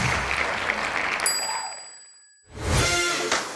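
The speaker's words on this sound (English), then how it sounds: "let's give them a round of applause" Audience applause at a one-day seminar in the UK: a brief burst of many hands clapping, cut off by a bright chime that rings and fades into silence before different sound begins.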